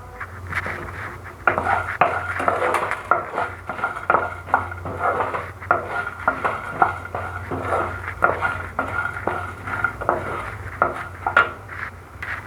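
A spoon scrapes and clatters steadily in a pan as pepper, cumin, coriander seeds, dried chillies and cashews roast for a country chicken curry, a continuous close metallic rattle with no talking.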